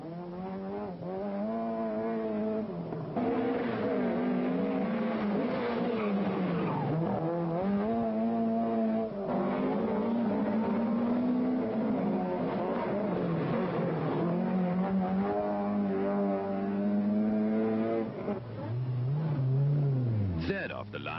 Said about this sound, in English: it's Per Eklund driving a rented Opel Ascona for the first time